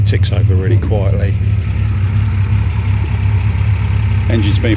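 Rebuilt MG MGC GT engine, lightened and balanced bottom end, idling quietly with the bonnet up, a steady low hum throughout while someone speaks briefly at the start and end.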